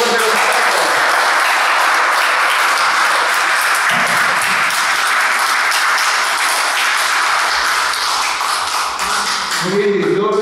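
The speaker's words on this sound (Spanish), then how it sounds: "Fuerte los aplausos nuevamente para todos." A crowd of parents, teachers and students at a school ceremony in Huaura applauding, a loud, dense wash of clapping that carries on for about ten seconds with someone speaking over it near the end.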